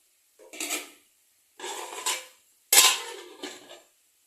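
Metal lid set onto a cooking pot of chicken biryani, several separate scraping clanks and rattles in short bursts, close and clear with no talk.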